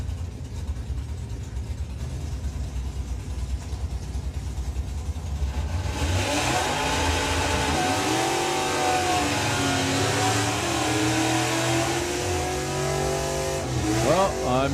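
Kawasaki drag bike making a run at Santa Pod Raceway, a loud sustained engine roar that swells midway and holds with rising and falling rev sweeps, distant crowd-level ambience before it.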